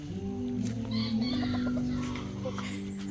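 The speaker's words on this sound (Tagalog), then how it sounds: "Kita niyo yung aking mga alagang manok" Chickens cluck and murmur nearby, a low steady chatter of several birds with a rooster-like call mixed in.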